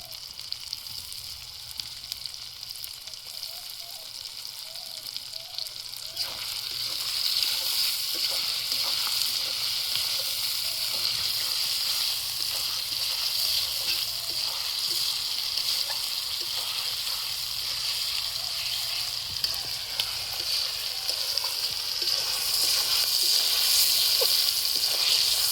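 Tomatoes fry in a pan of oil for a home-style chicken curry, giving a steady, close sizzle and hiss that swells louder after the first few seconds and holds through to the end with no talking.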